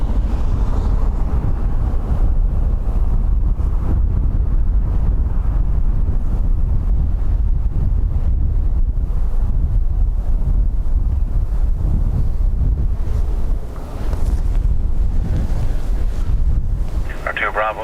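Strong wind at Dublin Airport batters the microphone in a continuous low, gusty roar that barely lets up, with faint voices underneath.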